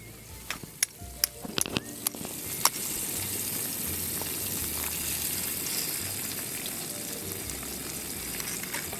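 A few sharp taps and clicks, then a steady, crackling sizzle of egg frying in butter in a pan, close by and fairly loud.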